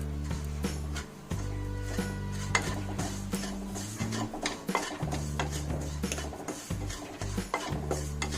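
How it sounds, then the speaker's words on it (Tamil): Semolina roasts in ghee in a pan for rava kesari, with the ghee left from frying cashews. A utensil stirs and scrapes against the pan in a steady, close rhythm over a low sizzle, with no talking. "அதே நெய்யில் வந்து இப்போ ரவை வறுத்து எடுத்துக்கலாம்."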